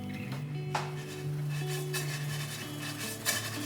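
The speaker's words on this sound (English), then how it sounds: "Just kind of flip what's on the bottom to the top. Spread it out real good." A utensil scrapes and clinks against a pan while browning mac and cheese is stirred and flipped, with irregular metallic taps over a steady low sizzle and no talking.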